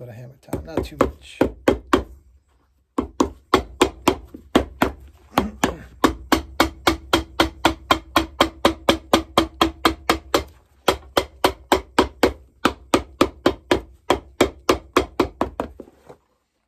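A hammer taps shoe leather on a pair of Magnanni shoes in quick, steady strikes, dozens of close, crisp knocks broken by a couple of brief pauses.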